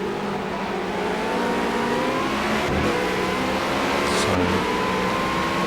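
A Renault 3.5 race car engine in the racing game Project Cars at Hockenheim drones steadily at high revs, a constant loud whine with brief gear-shift dips, no talk.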